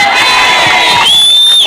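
A crowd at a Kenyan gathering for the Lari MP cheers loudly in a brief burst, with high, sustained shrill tones rising above the roar.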